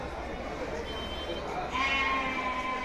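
Goats bleating at the Saturday goat market in Angallu, a couple of drawn-out calls rising over a steady murmur of crowd noise and people talking nearby.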